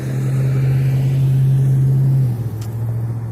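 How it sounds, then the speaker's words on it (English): A loud truck rumbles past close by with a heavy, droning engine note that holds steady and then drops in pitch as it moves away. "a loud truck went by"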